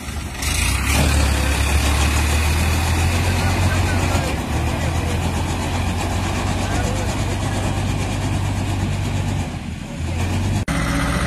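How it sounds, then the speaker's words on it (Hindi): A 20-horsepower tractor drives a PTO-powered trolley, its engine giving a low, steady diesel rumble throughout, loud and continuous with a brief change near the end, while a person talks over it. "वहाँ से पीटीओ ट्रॉली के साथ ट्रैक्टर ले आ रहा है"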